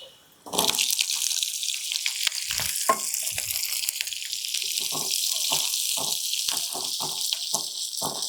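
Onions tossed into hot oil in a pan for paneer butter masala, a sudden loud sizzle that flares up and holds steady, with intermittent clinks of stirring, close by and without talk.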